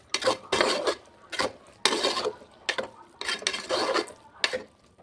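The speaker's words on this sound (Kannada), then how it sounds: "ಇದನ್ನು ಚೆನ್ನಾಗಿ ಮಿಕ್ಸ್ ಮಾಡ್ಕೋಬೇಕು." Cooked dal and rice being stirred into bisibelebath in a pot, a spoon scraping and squelching in repeated strokes, close and fairly loud with brief pauses between bursts.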